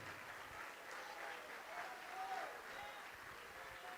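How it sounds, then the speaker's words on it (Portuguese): A church congregation applauds in a distant, faint wash of clapping that holds steady throughout, with a few faint tonal sounds mixed in. "vamos aplaudir mais, igreja"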